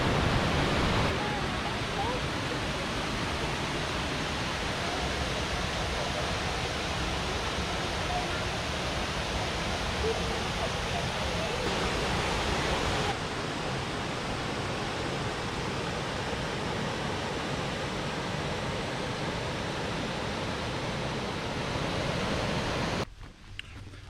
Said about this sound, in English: See the top of the falls below there